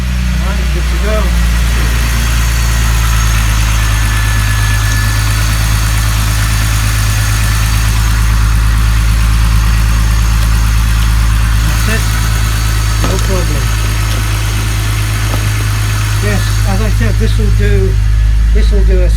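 A BMW E46 330Ci Clubsport idles steadily with a deep, bassy exhaust rumble that continues throughout, with a few faint clicks and brief speech heard over it.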